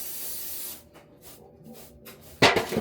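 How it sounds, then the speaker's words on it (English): A short steady hiss of cooking spray onto a pan, then quieter scattered taps and a sharp clatter of cookware near the end. "So spray the pan I shall."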